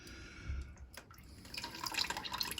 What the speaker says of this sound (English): that's the oil coming out, the gear oil from the box